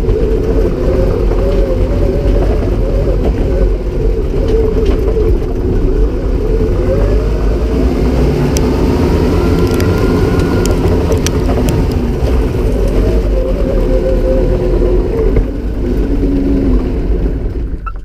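An E-Snow Mini Tank ride-on toy being driven, its steady motor and track drone running continuously and fairly loud from start to finish, with no voices over it.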